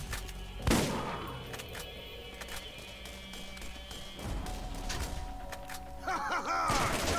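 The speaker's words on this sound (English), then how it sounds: "Getting fired out from my right hand side now." Gunfire in the Borderlands video game, a sharp shot followed by scattered quieter shots and thuds under a steady game backdrop, mid-level and fairly close.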